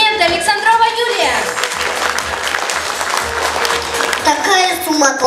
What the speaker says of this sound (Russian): Ваши аплодисменты, Александрова Юлия!